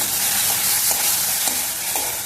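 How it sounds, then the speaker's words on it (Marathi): Half a glass of water poured into masala frying in oil for a spicy curry, giving a loud, continuous hiss and sizzle with faint stirring scrapes, close up and without talk. "यामध्ये आपण अर्धा ग्लास पाणी टाकूया"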